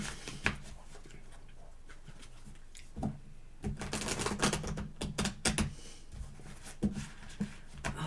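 Tarot cards are shuffled in quick papery riffles and taps, quiet at first, then in busier bursts of flicking and snapping close by.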